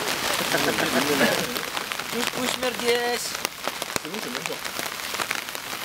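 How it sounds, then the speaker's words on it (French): Steady rain pattering on surfaces outdoors beside a campfire, a continuous wash of drops with sharp drip clicks, while someone speaks briefly in French over it. "Bon, il pleut toujours."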